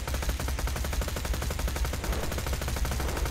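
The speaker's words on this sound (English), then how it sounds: "Shoot him with the slagger from here." Slag weapon fire in Borderlands 2's Tiny Tina's Assault on Dragon Keep: rapid, evenly spaced automatic shots hammering on without pause, loud and close, a steady mechanical rattle throughout.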